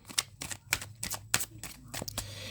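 Tarot cards being shuffled by hand, a run of quick riffling bursts in an uneven rhythm, close and fairly quiet, with a low steady hum underneath and no talking.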